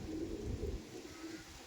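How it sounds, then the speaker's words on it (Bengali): A female Andhra pigeon gives soft, low cooing close by for a brief moment, faint and alone. "আর এটা হচ্ছে মাদি পায়রা।"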